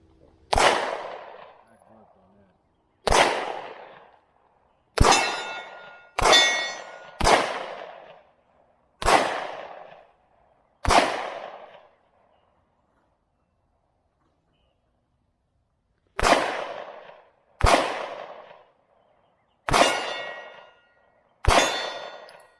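Eleven sharp, loud gunshots from a Smith & Wesson handgun at an outdoor shooting range, fired singly in irregular bursts with a long pause midway, each crack ringing out briefly.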